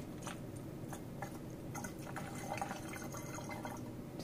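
Soft, steady sound of liquid pouring into a container, with faint drips and splashes throughout.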